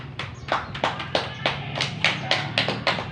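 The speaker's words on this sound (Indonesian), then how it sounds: "boleh kita beri aplaus untuk kita semua?" A small group of mothers at a family health and nutrition learning session claps together in a steady, moderately loud patter of distinct claps, with no talking.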